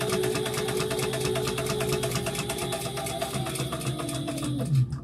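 Sewing machine back stitching through a tote bag, a fast steady mechanical chatter close to the microphone that slows and stops near the end.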